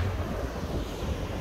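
Wind gusts steadily across the microphone outdoors on a fishing trip in Australia, making a low, rumbling buffeting roar for the whole brief moment.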